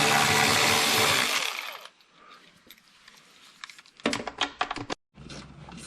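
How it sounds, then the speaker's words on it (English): A power tool whirs loudly at close range while backing 8mm bolts out of a Can-Am Ryker skid plate, then stops; a quieter stretch follows before a series of clattering, ratcheting bursts. "this is an 8mm that he's using to take all of these bolts out"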